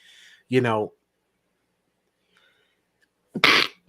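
A single sharp sneeze bursts out close by, followed by a pause and a brief voiced sound, with a second noisy burst near the end.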